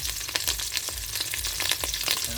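Dried fish (tuyo) frying in hot oil in a pan, a close, busy sizzle full of rapid pops and spatters that keeps going throughout, with no voices.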